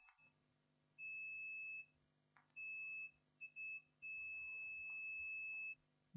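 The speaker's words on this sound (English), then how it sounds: "Gate is beeping with the source, and source to drain is beeping." A multimeter in continuity mode emits a high, steady electronic tone in several bursts of varying length while testing transistor pins on a dead Sony LED TV motherboard, some short and some sustained, with faint handling noises between.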